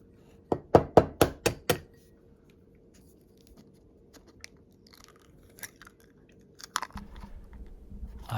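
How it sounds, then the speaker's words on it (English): Someone eating alone at home, a quick run of crisp crunching bites up front followed by quieter chewing and faint clinks, close and fairly soft with no talking. "There are no conversations, just the sound of me eating."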